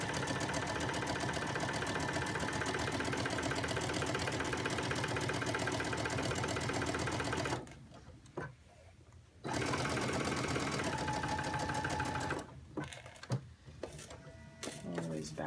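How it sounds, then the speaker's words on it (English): A sewing machine stitches a shirt placket in steady, continuous runs, stopping briefly twice for a short pause before resuming close and clear. "I don't like sewing over my pins"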